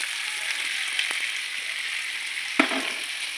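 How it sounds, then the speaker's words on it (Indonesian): Chicken liver stir-fried with kecombrang (torch ginger) leaves in a pan, a steady close sizzle broken by a couple of sharp scraping stirs of the spatula. "Lanjut kita oseng-oseng lagi teman-teman"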